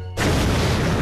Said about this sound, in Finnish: Mitäs nää uuden vuoden raketit,